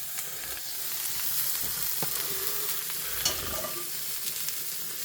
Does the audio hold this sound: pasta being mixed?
yes